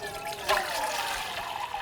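Tap water pours steadily into a cooking pot for spaghetti, a continuous close splashing trickle with a brief surge at the start.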